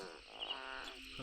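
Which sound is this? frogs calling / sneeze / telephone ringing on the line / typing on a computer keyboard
frogs calling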